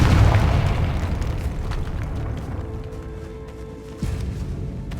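Confringo fire spell exploding in the Hogwarts Legacy video game: a loud, deep booming blast that rumbles and slowly decays, followed by a second smaller thump near the end, with no talking.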